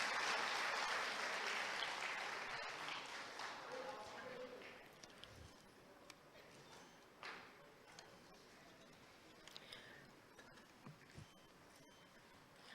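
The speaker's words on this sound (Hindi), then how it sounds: "जोरदार तालियों से अभिनंदन करें।" A crowd at a Madhya Pradesh government calendar release ceremony with the Chief Minister applauds loudly at first, then the clapping thins and fades into scattered claps and faint background noise.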